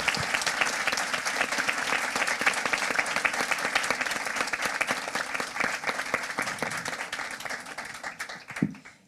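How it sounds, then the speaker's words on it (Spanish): Audience at a women-in-tech panel on artificial intelligence gives the speakers sustained applause, many hands clapping in a full, even roar that slowly thins and fades out at the end. "quiero pedirles un aplauso para estas brillantes oradoras"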